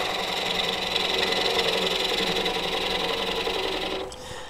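A spindle detail gouge cutting a nut-embedded live edge wooden bowl on a lathe gives a steady, loud, continuous scraping hiss with a motor hum beneath, easing off and quieting near the end.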